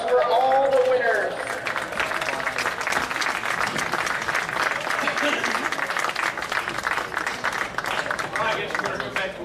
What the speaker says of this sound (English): please let's give a round of applause for all the winners